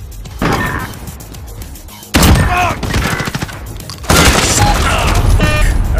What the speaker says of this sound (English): Maybe I should be toxic and use a shotgun.